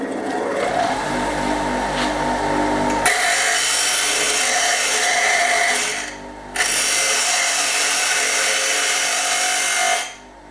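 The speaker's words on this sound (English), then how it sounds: "so I'm just going to round them off on the bench grinder" A bench grinder whines steadily as bolt ends are rounded off against the wheel, loud and close, with one brief drop in pitch midway and a tapering off at the end; no voices.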